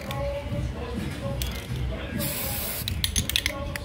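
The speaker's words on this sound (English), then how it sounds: "I'm going to spray them in a block" A spray can hisses in a long close burst followed by several short spurts, with a voice talking nearby in a room being readied for a move.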